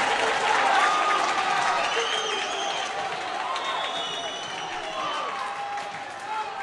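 A home crowd at a college volleyball tournament match cheers and applauds steadily throughout, a dense wash of clapping and shouts filling the gym, with a commentator's voice faintly underneath.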